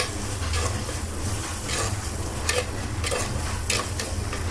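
Masala for paneer and green peas pulao sizzles gently in a pot while a spoon stirs it in soft, periodic scrapes, close and steady with no voices.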